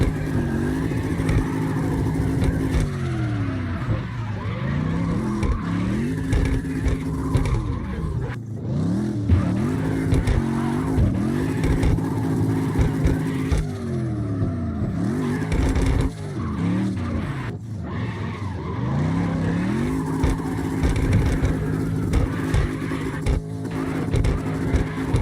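A Mercedes car drifting in the CarX Drift Racing video game, its engine revving loud and continuous, pitch sweeping up and down through gear changes with tire squeal over the top.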